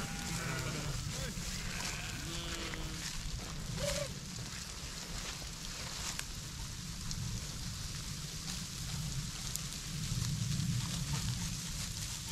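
A flock of about 700 sheep on winter transhumance bleats in scattered calls, some near and some farther off, under steady rain or wind hiss across the whole stretch.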